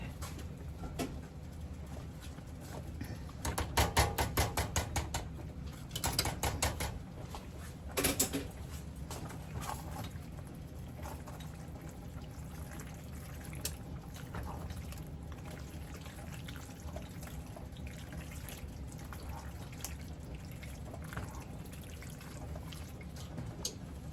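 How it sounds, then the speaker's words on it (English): A spoon stirring a thick pot of roasted garlic white mac and cheese, giving a few wet, squelchy scraping bursts early on before settling into a faint, quiet background. "Whew, let me stir that."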